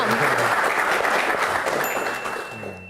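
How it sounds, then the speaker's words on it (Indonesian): An audience at a Q&A session with a BMKG meteorology official bursts into dense, loud applause that holds steadily and then begins to taper off toward the end. "Box ke-6, tepuk tangan."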